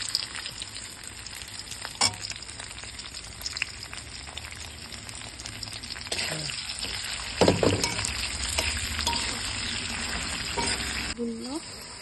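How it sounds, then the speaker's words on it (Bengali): Pre-fried fish pieces go into a hot pan with fried onions and sizzle, a soft steady frying hiss with occasional stirring scrapes and clinks, close and fairly quiet. "এখন ভেজে রাখা মাছগুলো আমি কড়াইয়ে দিয়ে দেব।"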